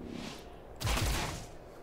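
Gunfire in the XCOM Chimera Squad video game: a single sharp burst with a deep low thump, standing out over a steady background hum.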